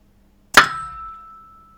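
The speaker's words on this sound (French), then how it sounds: "je vais faire un peu de gong" A single .22 rimfire shot from a Colt Lightning carbine strikes a steel gong target, giving one sharp metallic clang followed by a lingering ringing tone that slowly fades.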